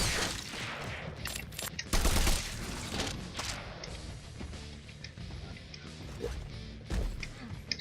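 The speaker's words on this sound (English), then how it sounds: "Do multiple shots." Rapid bursts of assault rifle fire in a Doom remake video game, dense cracking shots and impacts layered over game music and effects, loud and close.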